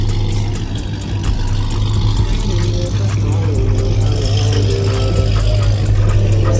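A modified Dodge Charger's engine rumbles with a deep, steady, loud low-pitched drone close by, while people talk over it throughout.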